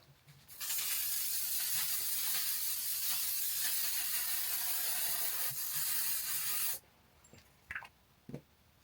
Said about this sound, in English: Inflammable 3-second setting spray.